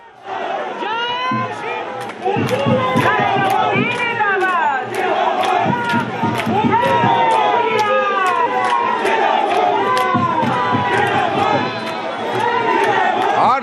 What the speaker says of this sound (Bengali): যেভাবে স্লোগান, পাল্টা স্লোগান হচ্ছিল